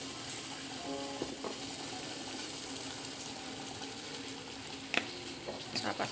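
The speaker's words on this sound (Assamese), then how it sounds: "পানী উতলি আছে" Tea water coming to a boil in an Assamese home kitchen, a steady low bubbling hiss with faint clinks and a few sharper knocks near the end, no talk.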